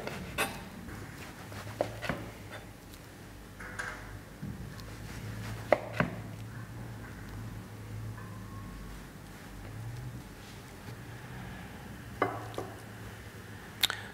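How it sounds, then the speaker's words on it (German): A knife slices a Boston maki sushi roll of cold-smoked salmon, cream cheese and rice into six pieces, giving a series of soft, sharp cutting taps with quiet pauses between them, close by and fairly faint. "Wir schneiden durch."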